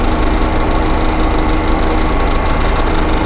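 A power saw cutting through oak blocking, running as a loud, continuous dense roar that holds steady throughout without pauses or voices.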